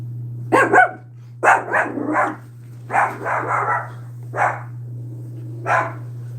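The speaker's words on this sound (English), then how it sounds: "Ooh, my dog's barking." A dog barks in short bursts, several barks spaced over a few seconds, fairly close and clear above a steady low hum.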